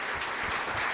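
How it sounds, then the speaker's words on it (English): Audience applause for the Friends of the Library at a library reading event: a brief, dense burst of clapping from a crowd, steady and fairly loud, with no speech over it. "So if we can take a second and give them a round of applause"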